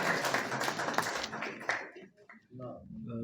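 Audience applause at an Urdu poetry recital (mushaira), a dense burst of many hands clapping that fades out after about two seconds, leaving someone speaking alone.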